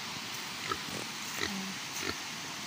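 A pregnant pig feeds at a farm in Baungon, Bukidnon, giving a few soft, short grunts at irregular intervals over a steady hiss of background noise.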